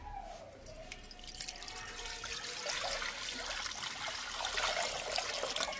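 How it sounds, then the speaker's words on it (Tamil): Water pours over cleaned squid in a bowl, a continuous splashing trickle with scattered drips at moderate, close range. "இதுக்கு தண்ணி ஊற்றுறோம்."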